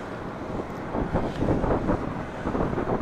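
Steady wind roars and buffets a microphone at an airport parking garage near Charlotte Douglas International, a broad continuous rush with no voices.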